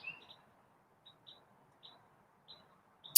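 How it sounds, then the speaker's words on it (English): Small birds chirping outdoors, a few short, high, faint tweets spaced evenly about half a second apart, with near-silence between them. "Yeah, we get the birds."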